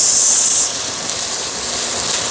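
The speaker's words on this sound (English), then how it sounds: "While that is sizzling nicely" Steady broadband sizzle of onions frying in a pan, loudest and hissiest at first, then settling into a constant crackle.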